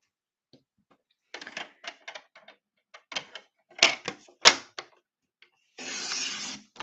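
Scissors snip through card stock in a run of short, crisp, irregular cuts, close by and with no talking, ending in one longer dense rasp of cutting.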